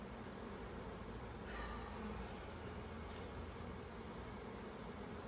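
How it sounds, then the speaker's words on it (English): Honeybees buzz in a low, steady drone during a hive inspection after being dumped on the ground, faint but continuous with a brief louder pass from a nearby bee. "I just dumped a bunch of bees on the ground"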